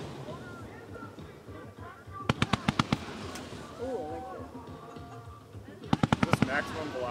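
A firework cake fired from a raft at a lake shoot, heard as two quick volleys of five or six sharp cracking shots each, one near the start and one near the end, with people talking throughout.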